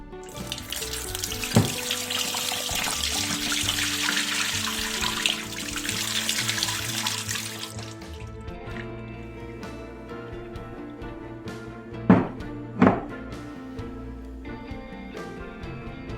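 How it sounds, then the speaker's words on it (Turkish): The first bitter brine poured off salt-cured cracked olives runs out in a steady splashing gush for about eight seconds, then stops, leaving quiet with a couple of hard knocks. "Zeytinimizin ilk acı sunuyu döküyoruz."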